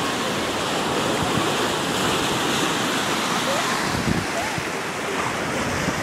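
Surf rolls onto the small beach at Boucan Canot, a dense, steady wash of breaking waves heard from a roadside vantage, mixed with strong wind buffeting the microphone and no talking.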